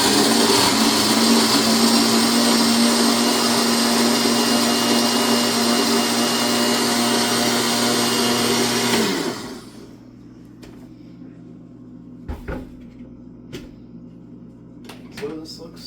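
A blender on its smoothie setting whirs steadily while blending vegan ranch dressing, then cuts off abruptly, leaving a quiet room with a few faint knocks and clicks.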